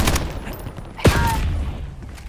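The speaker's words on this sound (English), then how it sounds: "Why is it 4 people shooting?" Warzone match with several players firing at once: bursts of rapid gunfire crackle back and forth at close range, and one sharp report stands out in the middle.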